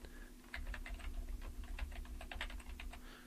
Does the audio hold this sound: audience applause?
no